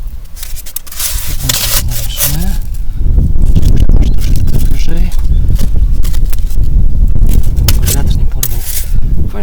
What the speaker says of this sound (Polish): Strasznie wieje.